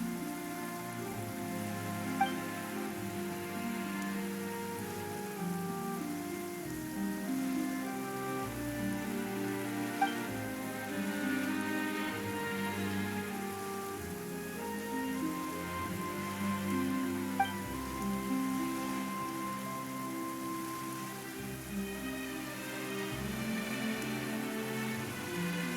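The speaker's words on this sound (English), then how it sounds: "Why is it raining all of a sudden?" Steady rainfall in the Genshin Impact video game, a constant patter of drops on surfaces beneath a soft layered musical score, with a few faint isolated ticks standing out.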